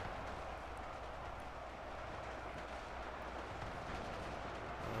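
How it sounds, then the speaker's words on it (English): Gunfire in a Halloween zombie video game, a continuous low rumbling barrage of distant shots blended into steady game ambience, with no talking over it. "I'm hearing gunfire."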